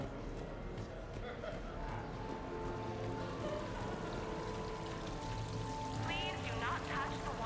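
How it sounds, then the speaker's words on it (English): Casino waterfall in Mass Effect 3 flowing as a steady broadband wash of pouring water, continuous and moderately loud, with murmuring voices and ambient tones beneath it. "Please do not touch the waterfall."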